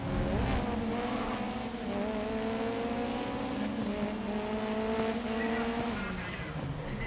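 Race car in the video game GRID Legends braking, with a steady engine drone whose pitch slides gradually downward over several seconds, amid a thick mix of other cars.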